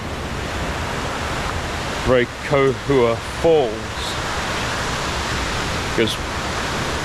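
Continuous roar of rushing water from Ohura Falls, with a person briefly talking over it midway.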